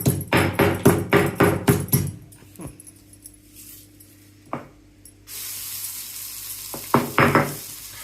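Garlic pieces dropped into hot oil in a pan while making bhel puri, preceded by a run of rhythmic rattling, then quiet clinks before a sudden steady sizzle starts and continues with a few knocks.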